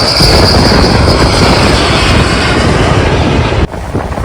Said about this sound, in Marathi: नेव्हीचं विमान